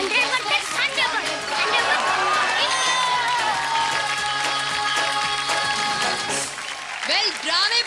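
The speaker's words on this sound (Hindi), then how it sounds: "ड्रामेदार तालियां हमारे नन्हे निहार के लिए." Studio audience at an Indian children's drama talent show bursts into loud, sustained applause for a young contestant, with cheering and whoops mixed in and crowd chatter underneath, continuing steadily for several seconds.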